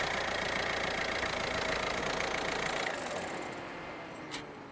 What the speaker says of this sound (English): Run the engine to stabilize the oil level.